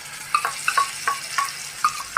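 Potato, pointed gourd and tomato with spices frying in a pan, with a spoon stirring in short scraping strokes and light clinks roughly every half second over a soft, quiet sizzle.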